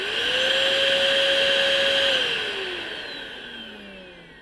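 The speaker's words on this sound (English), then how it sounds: "It was a vacuum." A vacuum cleaner runs alone, its loud steady whine holding for about two seconds before the motor spins down and the tone slowly sinks and fades.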